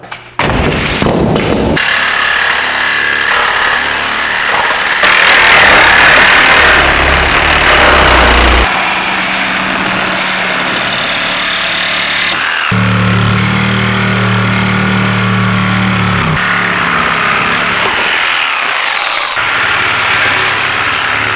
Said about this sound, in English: I don't know if you can hear, but this thing is running on 5 cylinders